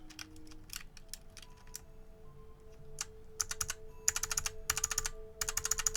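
Brisk typing on a mechanical keyboard fitted with new keycaps, close and crisp, starting with scattered single clacks and building into rapid bursts of keystrokes over a faint steady hum.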